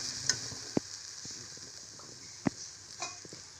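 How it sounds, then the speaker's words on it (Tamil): Soft bubbling and sizzling of tomato soup boiling in a pot on the stove, with a few sharp clicks and taps of a utensil against the rim. "அது வரைக்கும் நல்லா இது கொதிக்கட்டும்."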